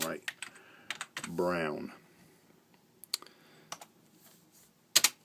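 Sparse, close computer keyboard clicks come in a few short bursts of isolated keystrokes while filling in a military parachute rigger form, with a brief spoken word near the start.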